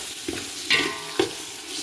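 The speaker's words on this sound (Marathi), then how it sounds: "त्याला चांगलं परतून घेऊयात." Tomatoes frying in oil for dal tadka, stirred in the pan: a soft steady sizzle with a couple of brief scraping stir strokes, close and alone.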